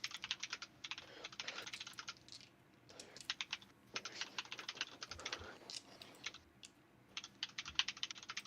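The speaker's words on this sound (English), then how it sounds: "That's a lot of typing." Computer keyboard typing in rapid, uneven bursts of crisp clicks, separated by short pauses, close but fairly quiet, with no voices.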